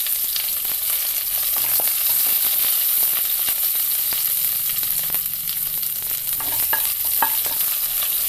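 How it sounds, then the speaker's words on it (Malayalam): Dried red chillies and curry leaves frying in hot oil in a pan for a bean masala curry, a loud, continuous close sizzle with occasional stirring scrapes and pops. "ഇതിലേക്ക് വറ്റൽമുളക് ഇട്ട് കൊടുക്കാം. കുറച്ച് കറിവേപ്പിലയും ചേർക്കാം."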